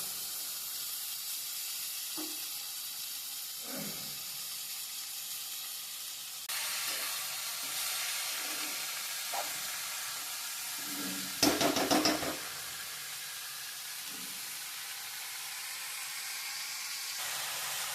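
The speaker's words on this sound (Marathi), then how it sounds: "आणि आपण मटकी टाकून घेऊया" Sprouted moth beans (matki) tipped into a hot pan with oil, a sudden loud steamy sizzle and hiss that keeps going, with a few knocks and stirring clatters.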